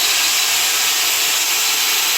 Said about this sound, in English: we'll first put on the grinder